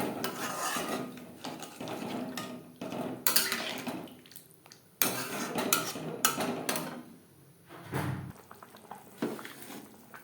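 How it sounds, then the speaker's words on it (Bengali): Water is poured into a pan for Tangra fish curry, bringing splashing and hissing bursts along with clattering, scraping utensil stirs against the pan in irregular spurts and pauses. "এক দু মিনিট নাড়াচাড়া করে নেওয়ার পর দিয়ে দেবো জল"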